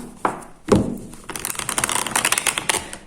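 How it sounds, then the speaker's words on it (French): Tarot cards being shuffled close by, a couple of soft thuds followed by a rapid, riffling flutter of cards. "Désolée pour le bruit des cartes."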